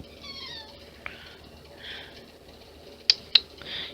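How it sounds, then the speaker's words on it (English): Indoors a cat lets out a drawn-out meow, then a couple of softer mews, with two sharp clicks of handling noise near the end. "Cats."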